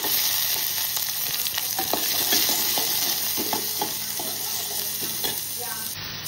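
Onion frying in hot oil with cumin, curry leaves and green chilli, a steady close sizzle broken by repeated scraping stirs of a spatula against the pan.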